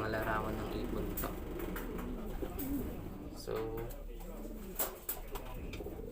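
Newly arrived Taiwan racing pigeons in a loft coo in low, rolling calls, close by and fairly steady, with someone speaking briefly over them.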